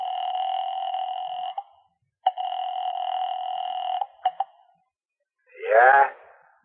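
Telephone dialing on an old-time radio drama: long steady dial tones broken by short beeps, then a brief warbling ring near the end, clean and alone with no talk.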